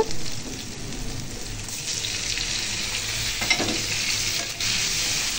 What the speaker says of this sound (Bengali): এরপর পেঁয়াজগুলো ভাজা ভাজা করে নেব